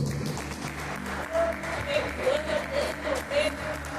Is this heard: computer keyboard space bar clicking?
no